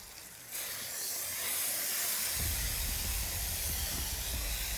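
Pineapple sizzling on a hot griddle, a loud steady hiss that swells after a quiet start and holds, with a low rumbling crackle underneath.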